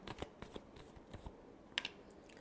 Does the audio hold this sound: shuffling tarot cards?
yes